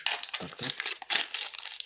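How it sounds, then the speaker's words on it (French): Crinkling and crunching of packaging as a candy box is cut open with scissors, a close, irregular series of crisp rustles and snips with brief pauses between them. "je vais ouvrir avec une paire de ciseaux"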